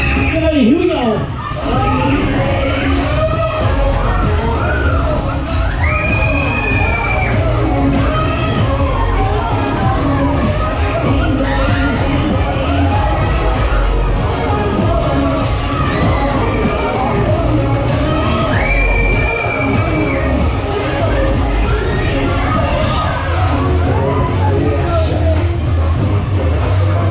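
Riders on the Scream Machine fairground ride at Worcester fun fair scream, yell and cheer continuously as a crowd, loud and sustained, with music and an announcer's voice mixed into the din.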